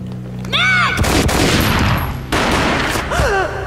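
Gunfire erupts in the Max Payne PC video game: two heavy, booming bursts of shots crash in close and loud, each ringing out briefly, while a voice shouts just before the first and again near the end.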